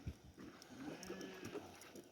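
Sheep and lambs on a farm give faint, distant bleats against a quiet, low outdoor background.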